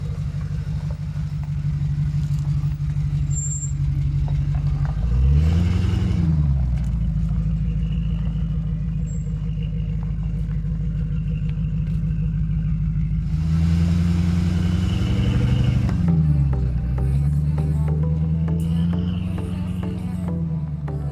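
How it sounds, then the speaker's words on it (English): 2003 Land Rover Discovery engine droning off-road, the revs rising and falling twice as it pushes through a puddle with splashing water, loud and close. "I told her to drive through the puddle"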